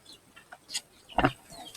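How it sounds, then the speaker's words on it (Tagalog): Chickens cluck and squawk in short bursts, one louder call near the end, over a faint outdoor background. "Ayan pa mga manok."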